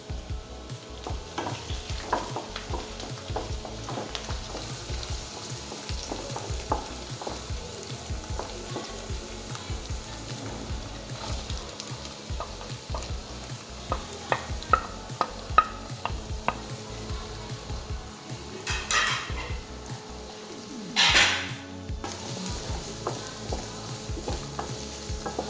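Chopped onions with salt sauté in a pan, a soft steady sizzle under frequent light scrapes and taps of a stirring spoon, fairly quiet and close, with no one talking.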